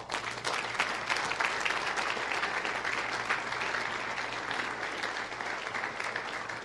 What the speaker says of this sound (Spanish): ¿Cuántos aplauden al Eterno?